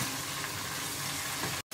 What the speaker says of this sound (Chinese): 我就用咗頭先咧煎個青魚嗰啲魚油咧就直接炒